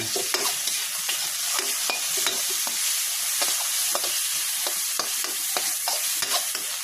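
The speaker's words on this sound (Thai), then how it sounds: "พี่วินใส่พริกแกงคั่วกิ้งไปแล้วนะครับเพื่อน ๆก็ลวนแห้งๆนิดนึงนะครับ" Thai kua kling curry paste is stir-fried dry in a hot pan, giving a loud, continuous sizzle. Quick scraping strokes of a spatula cut through it again and again, with no voices.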